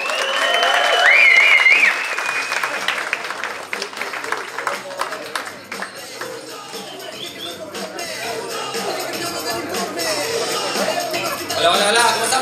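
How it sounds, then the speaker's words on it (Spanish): At a stand-up comedy show at San Diego's Comedy Palace, an audience bursts into loud, dense applause that fades to scattered clapping and cheers, with a voice calling out briefly at the start. "Por favor, dale un gran aplauso a Leo Saavedra."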